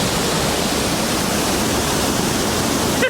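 Multnomah Falls in the Columbia River Gorge pours in a loud, unbroken roar of rushing water, steady and close throughout.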